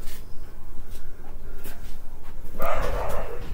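A dog barks excitedly at another dog outside. The barks start near the end as a loud, sudden burst that stands over steady background noise.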